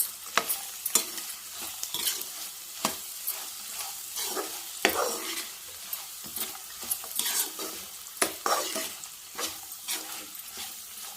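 Sliced okra stir-fries in a pan over a soft background sizzle, with irregular scraping and tapping strokes of a spatula stirring it close up.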